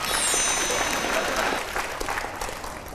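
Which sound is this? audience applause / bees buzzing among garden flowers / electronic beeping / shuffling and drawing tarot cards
audience applause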